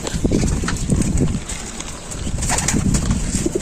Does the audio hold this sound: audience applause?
no